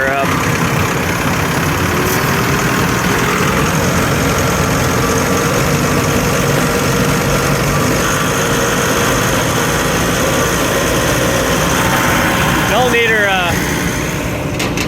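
A compost trommel screener and stacker engine idles loudly and evenly at low revs for fifteen seconds, a dense mechanical drone with a brief squeal or chirp near the end.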